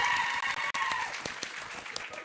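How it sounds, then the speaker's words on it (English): A conference audience at a women's summit in Swakopmund claps for the keynote speaker, a dense burst of applause that gradually thins and fades over a couple of seconds. "A warm round of applause, ladies and gentlemen."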